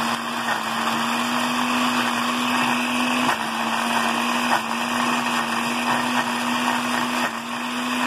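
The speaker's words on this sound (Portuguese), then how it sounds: "E agora a gente vai bater, não coloca água, não coloca nada. A gente vai bater até ele virar um creme" A kitchen blender grinds dry raw rice with no water added, a steady loud whirring motor hum with gritty grain rattle running continuously, with a few brief dips in pitch as the load shifts.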